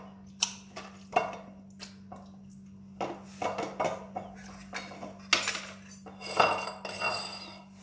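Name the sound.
mixing marinated sardines with utensils in a dish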